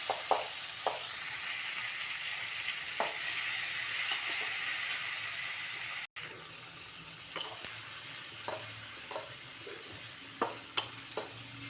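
Chopped onions with curry leaves frying in a pan for upma, giving a steady, fairly quiet sizzle broken by sharp, irregular scrapes and taps of a spoon stirring, with no talking.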